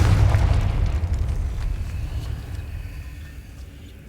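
The Confringo fire spell explodes in Hogwarts Legacy, a loud close boom that rolls into a long, gradually fading rumble.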